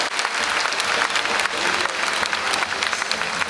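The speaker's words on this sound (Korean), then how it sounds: "여러분 다시 한번 큰 박수 부탁드립니다." Audience applause at the closing ceremony of the 18th Bucheon International Film Festival, a dense, steady wash of many hands clapping close by that fills the whole stretch without pause.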